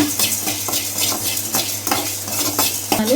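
Coriander seeds dry-roasting in a pan on the stove, stirred steadily with scraping, rattling strokes over a low steady hum, close and clear with no talking.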